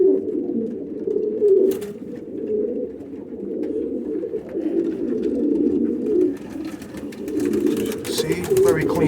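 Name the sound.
pigeons cooing in a loft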